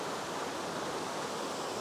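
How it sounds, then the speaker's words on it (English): Bridal Veil Falls cascades in the Blue Mountains near Leura, giving a steady, even broadband rush of falling water with no voices. "Geez, it's a big waterfall, this. And then it comes down into Tears and it just cascades over here."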